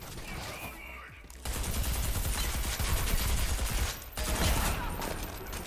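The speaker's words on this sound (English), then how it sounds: "what the fuck was that? A shotgun?" Shotgun blasts in the video game Deus Ex: Human Revolution, set in future Hong Kong, burst loud and close in dense, overlapping volleys. A brief quieter lull comes before the firing resumes.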